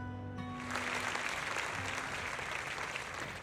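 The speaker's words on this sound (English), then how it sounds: "Zoe's speech is met with a wave of prolonged applause." Crowd applause in the video game Zenless Zone Zero, a dense wash of many clapping hands rising after a brief tonal sound and continuing steadily as prolonged applause.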